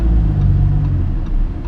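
A Lamborghini Huracan engine, heard from inside while turning at low speed in Monaco, a loud, steady deep rumble held throughout with no talking.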